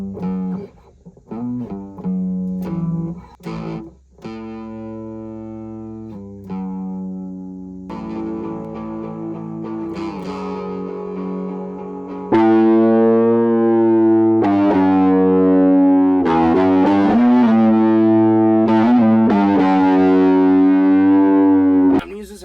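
An Epiphone Les Paul guitar plays distorted melodic lines through an Orange Thunderbird 50 head recorded direct, sustained notes and bends that grow louder and thicker partway through.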